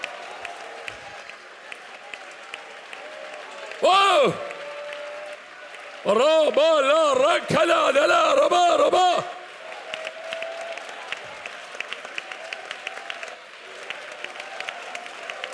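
Church congregation at a worship service clapping hands together, a dense burst of loud applause lasting a few seconds, mixed with cheering and amplified voices and a sustained musical tone, after a shorter earlier burst.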